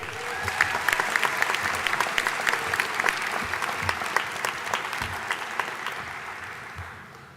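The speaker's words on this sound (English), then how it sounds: "How about another round of applause for Caitlin?" A graduation crowd at a Pennsylvania College of Technology summer commencement gives a warm round of applause, dense clapping with some sharper individual claps, fading out near the end.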